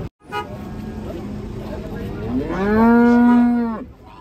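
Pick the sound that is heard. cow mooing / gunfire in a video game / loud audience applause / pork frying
cow mooing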